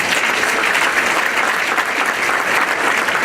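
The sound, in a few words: audience applause at an awards event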